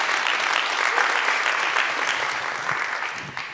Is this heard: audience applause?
yes